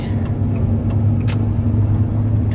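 A car drives along a road at night, heard from inside as a loud, steady low engine and tire rumble with a few faint clicks, no voices.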